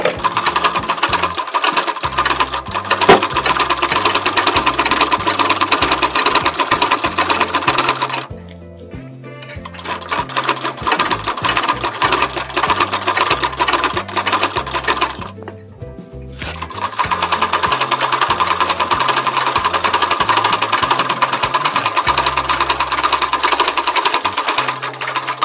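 A sewing machine stitches the second seam of a blouse in a loud, continuous rattling run, broken by two brief pauses before it starts again and continues steadily to the end, with no talking.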